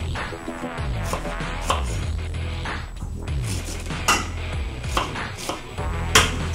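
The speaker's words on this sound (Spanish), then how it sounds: "Cortas la papa, cortas calabaza, después cebolla" A knife chops potato, squash and onion on a board in quick, uneven strokes, with sharp knocks repeating closely and some light clinks of kitchen utensils.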